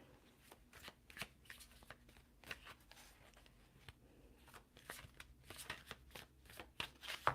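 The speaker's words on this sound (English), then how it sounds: "And I'm a slow shuffler." A tarot card deck is shuffled slowly by hand, with soft, irregular riffles and flicks of the cards repeating close up and fairly quietly throughout.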